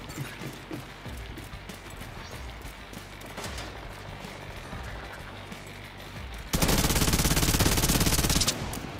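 Gunfire in The Division 2 starts as steady, moderate shooting. About two-thirds of the way through, a loud sustained burst of automatic fire from a Striker build takes over for roughly two seconds, then stops abruptly.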